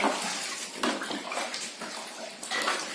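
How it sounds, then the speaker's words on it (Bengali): Cut jackfruit pieces are dipped and swished in a basin of water, giving continuous close sloshing and splashing with a few brief surges, and no talking. "কাঁঠাল কেটে এরকম একটা গামলার মধ্যে জল নিয়ে চুবিয়ে দেবে।"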